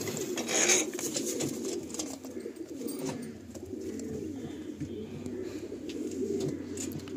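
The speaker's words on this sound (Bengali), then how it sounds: "লালসিরা পেয়ারের এই যে একজোড়া লালসিরা বাচ্চা এসছে।" Red-headed pigeons, including a young pair, coo softly and repeatedly in a low murmuring rhythm over steady background noise.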